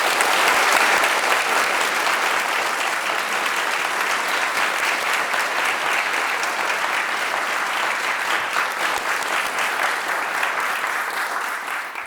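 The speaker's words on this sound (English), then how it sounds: "let's just give them a really big round of applause" Sustained, thick applause from a large audience greeting Nobel laureates in Stockholm, an even roar of clapping that holds steady for several seconds and only eases slightly at the end.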